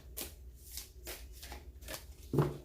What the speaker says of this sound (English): I know you guys like to see shuffling on camera